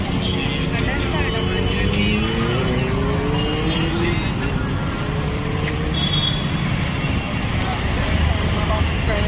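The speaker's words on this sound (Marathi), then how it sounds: "चला आमची गाडी चालू द्या" Steady engine and road rumble from a car driving, continuous throughout, with a voice occasionally audible over the noise.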